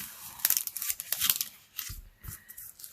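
Paper being cut and crinkled with scissors while making a Stampin' Up shaker card, a run of close, crisp snipping and rustling bursts, busier at first and then thinning to a few softer cuts.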